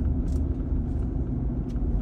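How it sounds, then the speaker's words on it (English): A car passes close by on a street, its engine and tyre rumble steady and loud throughout. "Man, that car almost hit me."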